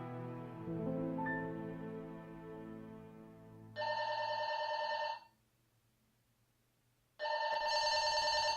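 A telephone rings in two loud bright bursts separated by a short silence, following soft music that fades out, with no voices.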